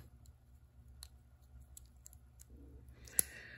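A plastic part of a G1 Scorponok Headmaster replacement toy snapping into place, a single sharp click near the end after quiet handling noises.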